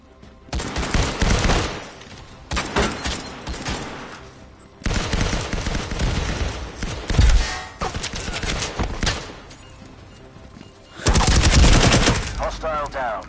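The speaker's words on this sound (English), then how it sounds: "What exactly does this gun even do?" Rapid automatic gunfire from a weapon in the shooter game Firewall Zero Hour, loud and close, coming in several long bursts separated by short pauses.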